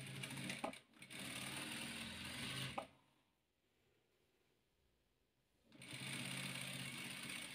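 A sewing machine stitches yellow and red patchwork pieces for a star-pattern quilt, running in a steady close whir for about three seconds, pausing briefly, then starting again.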